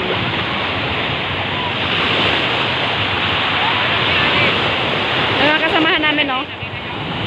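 Strong sea waves crash continuously on the shore at San Fabian, Pangasinan, a loud, steady surf roar with wind buffeting the microphone, while people talk briefly near the end.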